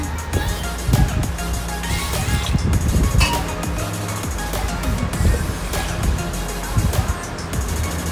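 Water splashes and churns continuously as half a cup of toor dal is washed in a pressure cooker, close and fairly loud throughout.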